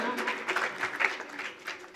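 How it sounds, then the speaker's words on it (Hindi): An audience claps to welcome a top-ranked girl student at a school prize ceremony; the clapping comes in uneven bursts of moderate loudness, with a voice speaking over it. "जोरदार तालियों से स्वागत किया जाए बालिका का"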